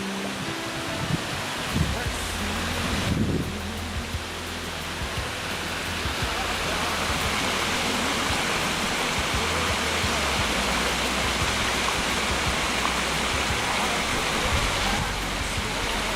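A waterfall beside the Machame Route on Mount Kilimanjaro pours with a constant broad rushing roar, close and loud, with brief faint handling noise near the start.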